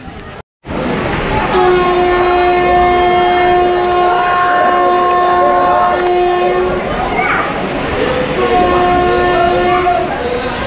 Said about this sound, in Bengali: এই ট্রেনে করে আসলাম আমরা